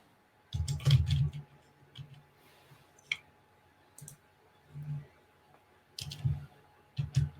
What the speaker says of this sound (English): why you might hear the typing